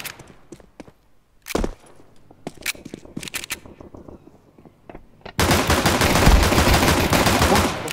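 Sustained automatic gunfire from Counter-Strike 2 erupts loud and dense after a stretch of scattered clicks, footsteps and sparse single shots, continuing steadily to the end.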